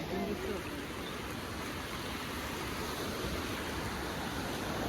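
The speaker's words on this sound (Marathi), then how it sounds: "तुम्ही बघितला नदीला किती पूर होता" A flooded, swollen river after heavy rain rushes past in a broad, continuous roar of flowing water, steady and close, with faint voices in the background.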